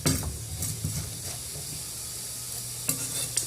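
Food searing in a hot pan, a steady close hiss and sizzle broken by a few sharp clatters of stirring against the pan.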